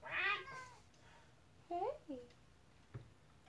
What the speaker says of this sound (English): How's it going, little kitty?